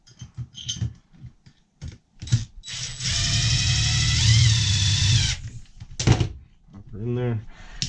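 A Flex cordless drill whirs steadily for a couple of seconds, driving a deck screw, with brief tool handling and a voice before and after.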